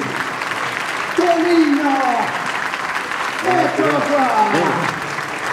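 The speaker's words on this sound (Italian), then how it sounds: "Torino, si dà un applauso." Audience applause at a municipal police evening event in Turin, a steady broad clapping wash under an announcer's amplified voice, with music-like tones rising briefly midway.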